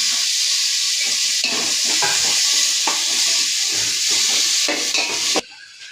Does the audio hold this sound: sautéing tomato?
yes